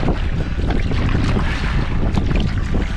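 Strong wind buffets the microphone outdoors on a Michigan fall trip, a loud continuous rumbling roar with gusty surges and no voices.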